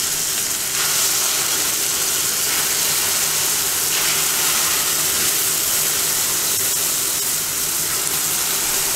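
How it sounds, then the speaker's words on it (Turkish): Steady, loud sizzling and crackling of stuffed dolma frying in plenty of hot oil in a pan, continuous throughout with no talking. "Dolmaları kızartmaya başlıyorum."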